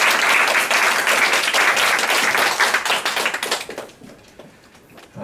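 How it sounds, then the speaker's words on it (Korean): Enthusiastic audience applause at a Korean church Thursday worship service, loud and dense for about four seconds before tapering off into scattered claps and quiet. "박수로 환영하겠습니다."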